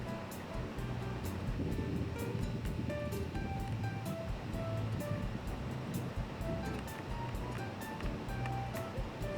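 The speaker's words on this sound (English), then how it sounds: "There's that creek running by the mill." Steady rushing water of a creek flowing past a mill in Buchanan, Michigan, a broad, dense wash of sound nearby, with faint wind.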